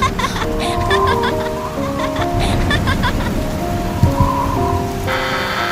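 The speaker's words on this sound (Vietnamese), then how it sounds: "Ôi Thỏ, mưa gió tầm tã thế," Heavy cartoon rain and wind, a steady wash of dense downpour with patters and a low rumble, overlaid by short bright musical tones.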